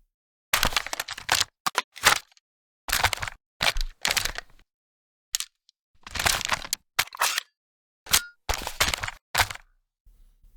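A Call of Duty gun reload effect: a quick series of sharp metallic clicks, clacks and thunks in bursts, close and punchy, with short silences between.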